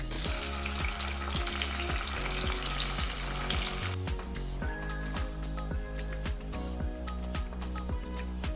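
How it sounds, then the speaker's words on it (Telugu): Tomato pieces fry in hot peanut oil, a loud dense sizzle that eases after a few seconds into a quieter crackle with small pops and light ladle taps, close up, no voices. "ఆయిల్ కాగిన తర్వాత ఇందులోకి కట్ చేసి పెట్టుకున్న టమాటో ముక్కలు వేసుకోవాలి."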